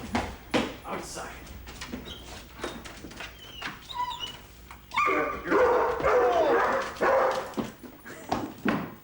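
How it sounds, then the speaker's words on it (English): A pet dog barks and yips in short bursts at close range, mixed with a person talking, followed by a louder stretch of whimpering or yelping. "What else can I say about my dog, Bug?"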